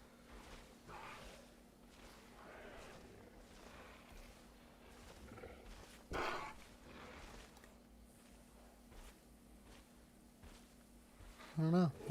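A tiger roars in the Jurassic World Evolution 2 video game, Malta expansion, in fairly faint bursts over quiet ambient game sound, with a louder roar near the end.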